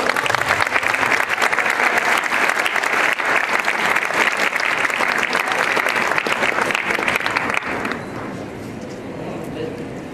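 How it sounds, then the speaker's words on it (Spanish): A crowd gives a burst of loud, dense applause that carries on strongly for several seconds, then drops to softer scattered clapping near the end, with voices mixed in underneath. "Un aplauso, por favor,"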